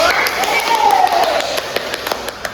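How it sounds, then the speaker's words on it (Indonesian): Classmates clap for a student group after its presentation during a fifth-grade religious studies practical exam, a brief patter of claps under a voice that talks throughout. "Tepuk tangan kepada kelompok 1."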